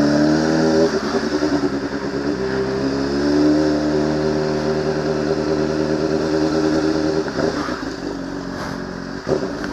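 A black Honda Hornet motorcycle engine drones steadily and loudly while riding on a street, its rumble rising and falling with throttle changes and a few shifts toward the end.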